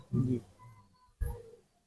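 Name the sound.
pigeon cooing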